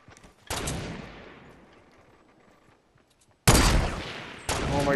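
Gunfire in the video game Fortnite: a sharp burst of shots with a long decaying echo, a pause, then two more loud bursts close together.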